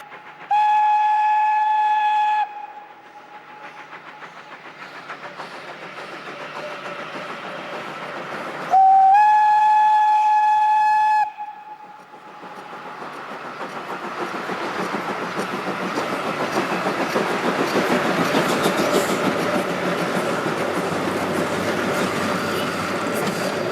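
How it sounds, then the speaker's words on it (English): Steam locomotives set off with their train on an Austrian line toward Birkfeld in winter: two long whistle blasts sound, then a rising, rumbling chuff of engines and rolling wagons builds and carries on loudly. "The engines are now ready to pick up their train and head off for the last 10 kilometres to Birkfeld."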